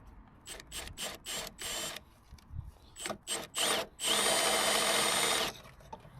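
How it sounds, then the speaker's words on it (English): A power drill is used while marking and drilling a new hole during mechanical work, whirring in short close bursts and then one long, loud, steady run. "Right, so that's where I want to drill our new hole."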